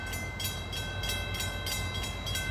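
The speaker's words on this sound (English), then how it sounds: "Again, the crossings are going down before we actually see" Norfolk Southern intermodal freight train led by an AC44C6M locomotive rolling past steadily, with a continuous heavy rumble and rhythmic metallic clatter of wheels over rail joints.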